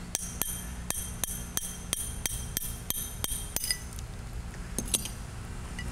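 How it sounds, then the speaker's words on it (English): Repeated sharp hammer taps breaking thick glass, a regular series of hard cracks and clinks, close and fairly loud, slowing near the end. "When it gets that thick, you have to use a hammer to break it out."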